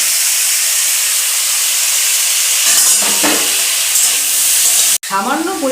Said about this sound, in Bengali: আমি সামান্য সাদা তেল দিয়ে সবজিগুলোকে ভেজে নেব।